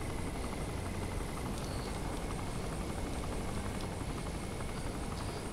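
A gunship helicopter from Saints Row IV drones continuously, a dense, loud, unbroken rotor and engine roar with faint thudding, heard alone without speech.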